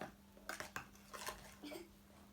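Soft scraping and clinking of a utensil stirring homemade fake snow in a bowl, a few irregular strokes at low volume with a faint steady hum beneath.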